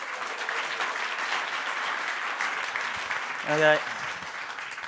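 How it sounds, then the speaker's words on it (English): Audience at a startup pitching event giving a sustained round of applause, a steady crowd clapping throughout, with a man's short spoken word rising briefly above it near the end. "in 1 minute, round of applause"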